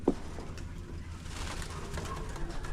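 Pigeons in a loft at bath time give a few soft coos with light splashing and rustling, fairly quiet and close, with a brief sharper sound at the very start.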